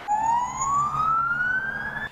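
An ambulance siren arriving at an accident scene in Ukraine, loud and near, with a single steadily rising wail held for about two seconds over a low engine rumble.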